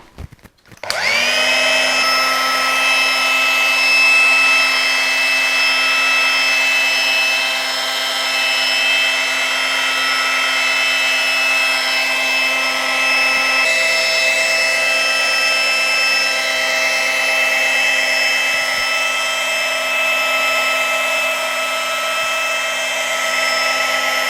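A bike frame being polished with a sponge and cutting compound, a steady, loud rubbing and whirring that runs continuously without pause and with a fixed tonal whine.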